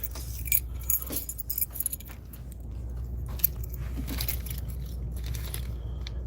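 A bunch of keys, including a mail key bundled with rubber bands, jangles in short bursts up close, then settles into a steady background rustle.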